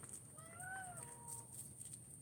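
A house cat gives a short meow or two, faint and close, in a quiet room with a steady high-pitched hum in the background.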